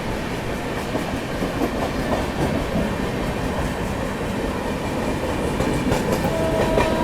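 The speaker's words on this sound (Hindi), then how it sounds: "ये कोई ट्रेन अभी रानी कमलापति स्किप मार रही है। Sitapur LTT Sitapur superfast." A superfast passenger train, the Sitapur–LTT express, skips Rani Kamlapati railway station without stopping. It passes close and loud with steady rumbling and rhythmic clickety-clack of wheels on rail joints, a faint wheel squeal near the end, and no talk.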